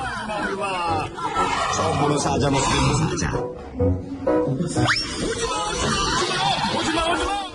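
Black bear cub screaming and shrieking in fright inside a cage, a dense continuous din of cries with a rising squeal near the end, mixed with background voices and noise.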